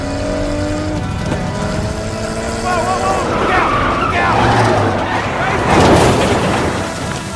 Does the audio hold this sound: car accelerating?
yes